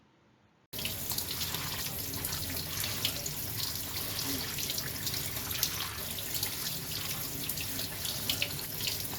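A tap suddenly turns on and water runs steadily into a sink while hands are washed with soap, a constant close splashing hiss for several seconds.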